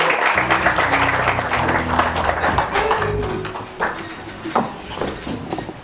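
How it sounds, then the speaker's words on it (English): Applause at a poetry book launch starts dense and then thins into scattered individual claps, while a voice and background music play under it. "Another round of applause for Mashalo Samiro"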